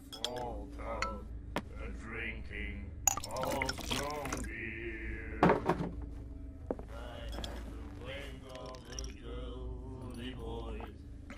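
A drink poured and glasses clinking in the Call of Cthulhu video game, with scattered bright clinks and a trickle of liquid around brief spoken dialogue.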